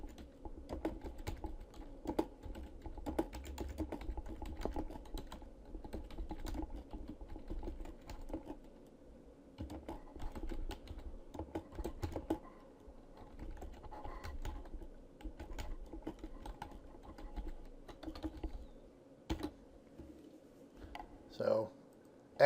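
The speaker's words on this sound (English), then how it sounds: "Fill in a subject line for your comment, and then type your comments." Computer keyboard typing in quiet, uneven bursts of soft key clicks spread across the whole stretch, fairly faint and close, with a low background hum and no talking.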